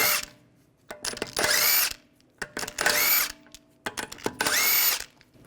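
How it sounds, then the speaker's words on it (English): A power tool with a 17mm socket spins lug bolts out of a Volkswagen Tiguan wheel, giving three loud whirring bursts separated by short pauses and clicks, close up and with no talk. "take the lug bolts out."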